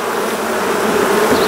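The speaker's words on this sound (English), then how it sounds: "But the bees are bringing in something, which is always good." Dense, steady buzzing of many honey bees at a hive, a continuous close hum with no voices.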